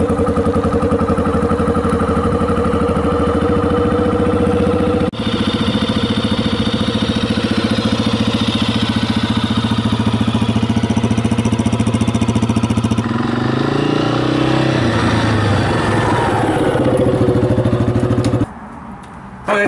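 Yamaha XT250 motorcycle engine starting and settling into a steady, loud idle on a cool day, running continuously close by with a brief dip near the end.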